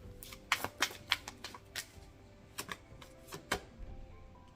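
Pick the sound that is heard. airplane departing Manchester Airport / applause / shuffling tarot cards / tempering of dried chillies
shuffling tarot cards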